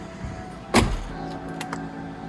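A Dodge Challenger car door shuts with a single solid close thud, followed by a couple of faint clicks in a quiet setting.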